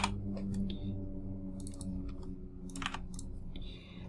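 A GitHub password typed on a computer keyboard: a few quiet, scattered key clicks in short bursts over a low background hum, close but faint, no speech.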